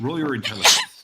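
A single sharp sneeze bursts out near the end, loud and close, right after a voice speaking during a tabletop role-playing game session.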